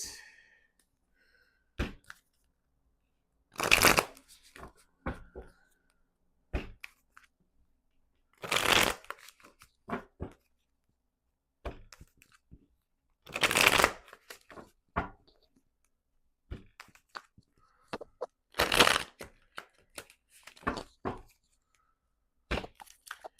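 A tarot card deck being shuffled, repeated close bursts of riffling and flicking cards separated by quiet pauses, with soft handling taps in between.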